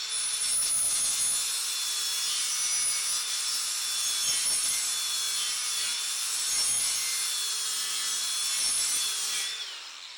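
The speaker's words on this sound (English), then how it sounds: "I'm just going to put a bevel right here, maybe a quarter of the way down" Scrap steel is beveled along its edge in preparation for welding, making a steady, harsh, high-pitched grinding that runs unbroken for about ten seconds, with a few faint low knocks and no speech.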